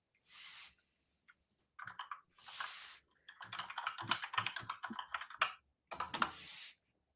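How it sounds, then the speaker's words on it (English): Bursts of rapid clacking keystrokes on a mechanical keyboard, close to the microphone, come in irregular clusters separated by short pauses, with no talk. "Yeah, it's that mechanical keyboard."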